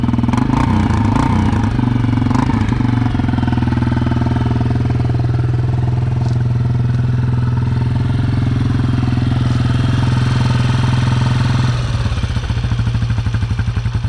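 A loud 2002 Yamaha Wolverine 350 ATV engine idles with a raw, throaty exhaust with no baffle, running steady and rough throughout, with a slight change in tone near the end.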